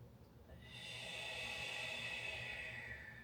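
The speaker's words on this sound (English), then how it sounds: "One more deep breath." One slow, deep breath drawn out over a few seconds during a reformer-inspired mat workout, soft and close, steady in level, with no speech.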